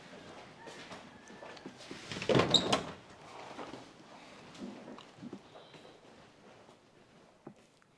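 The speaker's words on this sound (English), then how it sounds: "Let me shut the door, I'll be right back." An indoor door swung shut with a heavier knock midway, followed by softer rattles and clicks of it being locked, fairly close with a quiet room around it.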